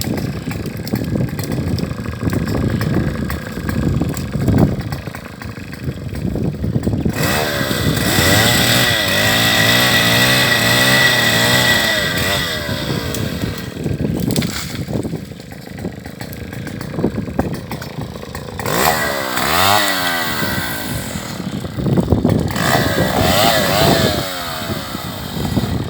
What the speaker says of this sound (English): So we went through with the chainsaw